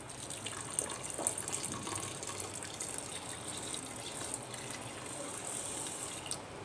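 Water tinted with blue ternate flowers gushes steadily into a pot of rice, a continuous close splashing pour lasting several seconds with no voices.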